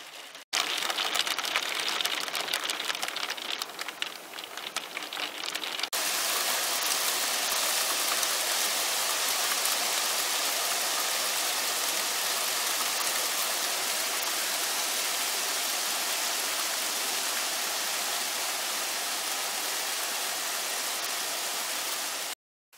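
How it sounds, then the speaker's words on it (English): Heavy hailstones fall outside an open window, a loud, dense, continuous hiss and clatter that fills the whole stretch and cuts off sharply at the end as the window is shut. "It's hailstones."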